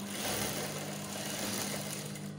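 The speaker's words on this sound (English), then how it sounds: "So after sewing them," Sewing machine stitching a fly front zipper onto trousers, a steady fast mechanical whirring hum running continuously and fairly close, with no voices.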